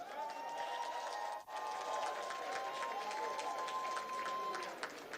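Applause from an audience at a Nigerian gathering as a syndicate secretary is introduced: a steady crackling patter of many hands, faint and somewhat distant, continuing for several seconds with a brief dip partway through.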